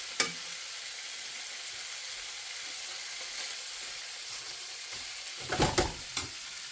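Italian sausage links fry and brown in a pan with a steady, soft sizzle, with a few louder clatters of the links being turned near the end.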